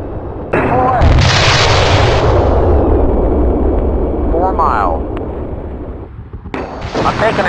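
An AH-64D attack helicopter launches a missile in the Jane's Fighters Anthology flight game: a loud roaring whoosh and rumble of the launch over the engine drone, with radio-style voice chatter and brief synthetic beeps partway through.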